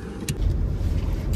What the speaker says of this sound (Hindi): शिवी सुनना, गाड़ी तेरा भाई चलाया।